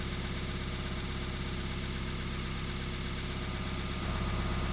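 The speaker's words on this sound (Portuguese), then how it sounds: "os tuchos estão batendo, não tem jeito" A car engine idles with tapping hydraulic lifters, giving a steady, continuous rumble with a fast, even ticking running through it. It is close and constant, and the tone rises slightly toward the end.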